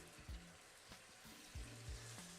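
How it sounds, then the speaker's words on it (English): Mushrooms frying in oil and butter in a pan, a quiet steady sizzle close by, broken by a few low clunks and thumps as the pan or food is moved. "The mushrooms, a little oil in the pan, and drop the mushrooms in."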